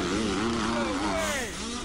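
Motorcycle engine at a competition, a high whining tone rising and falling in pitch through several revs, moderately loud and steady, with voices talking over it throughout.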